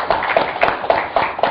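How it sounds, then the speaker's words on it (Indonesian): An audience claps for a business leader at a CEO talk event, a steady rhythmic clapping of about six even beats, close and fairly loud with no talk over it. "Kita beri tepuk tangan pada Pak Mohtar Riyadi."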